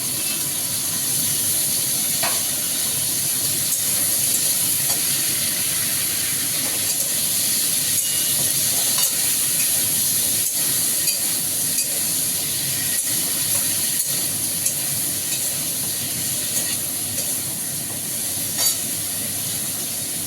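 Continuous hissing sizzle of long beans and eggplant frying in a pan, even and steady throughout with only slight crackles.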